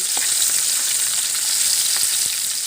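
Bilong-bilong fish frying in a pan, with a steady, loud, dense sizzle of hot oil that holds throughout, close and uninterrupted, and no talking.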